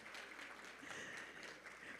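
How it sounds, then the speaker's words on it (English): Faint applause at a retirement banquet for a high school jazz band, a soft, steady patter of clapping heard from a distance in a large room. "We want to give a round of applause for our musical entertainment"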